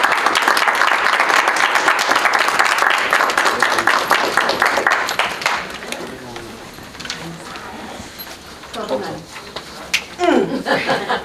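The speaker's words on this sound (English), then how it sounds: "can we give them a big round of applause?" An audience at a live reading event gives a loud, full round of applause that gradually thins out, followed by scattered chuckles and murmuring voices near the end.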